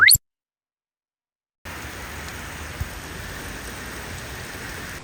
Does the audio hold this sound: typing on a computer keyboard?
no